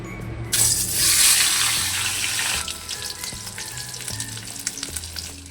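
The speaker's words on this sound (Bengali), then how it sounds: "তেল গরম হয়ে গেছে, এবার মাছটা ভেজে নেবো।" Fish drops into hot oil with a loud initial hiss that settles into a steady, close sizzle and crackle, punctuated by small pops and clinks, with no talking.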